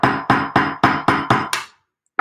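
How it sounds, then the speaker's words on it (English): Hammering SilverSilk hollow mesh chain links for a cold connection: six sharp, evenly spaced metallic strikes ring out close and loud, then a pause before one more blow. "If you really are good and precise about hammering these links where the seam is, you can do a really great cold connection"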